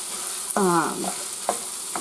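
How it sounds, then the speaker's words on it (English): Typical tube breakfast sausage browns in a pan for sausage gravy, a steady close sizzle with a brief scraping stir and a few light utensil taps. "And so we start with just browning some sausage. This is just typical breakfast sausage."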